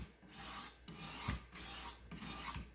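Blade edge being sharpened on 600 grit Jende diamond stones, 1x6 inch: a quiet, close rasping scrape repeated in four long even strokes, each ending with a soft knock.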